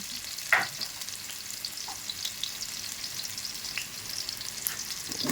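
Tomatoes get stirred into a frying pan while cooking chicken sinampalokan, a steady soft sizzle with a few scrapes of the utensil, one sharper clack near the start.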